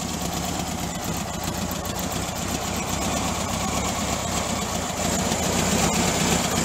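A rebuilt VW bus engine idling, a steady close mechanical rumble with even ticking and vibration running unbroken throughout.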